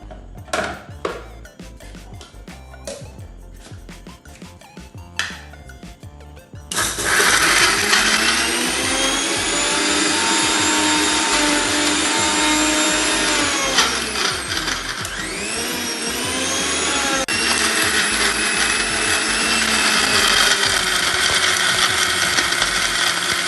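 A blender grinds masala paste with vinegar for a mandi recipe, starting abruptly after a few seconds of quiet kitchen clatter and running loud and steady, its whine dipping and rising midway, with no talking.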